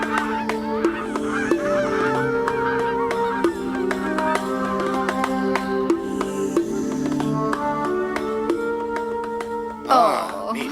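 Geese honk repeatedly, their nasal calls overlapping and trading back and forth at close range, with a brief louder flurry near the end.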